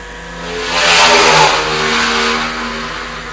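A Formula 3 race car at a Southern Downs road race climbs a hill on its last lap, the engine revving hard and loud as it accelerates, rising to a peak and holding a strained, steady roar.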